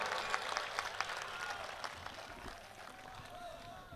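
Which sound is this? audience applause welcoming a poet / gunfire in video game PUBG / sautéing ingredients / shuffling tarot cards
audience applause welcoming a poet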